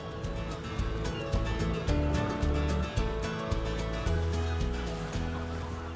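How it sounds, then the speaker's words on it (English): Seabirds call on the coast, a busy overlapping chorus of harsh honking and gobbling cries that carries on without a break. "Nature in the form of seabirds."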